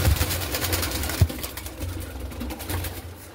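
Three young home-bred pet birds in a breeding setup coo softly and repeatedly in low, throaty murmurs close by, with light rustling and shuffling between the calls.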